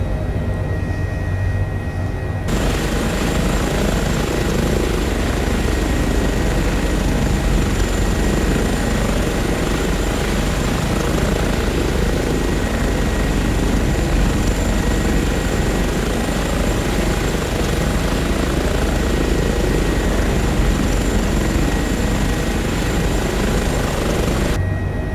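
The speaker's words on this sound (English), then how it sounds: "I am mainly flying the H145." Airbus H145 helicopter in Microsoft Flight Simulator, a loud, continuous rotor and turbine roar that starts abruptly after a brief quiet moment and holds steady throughout.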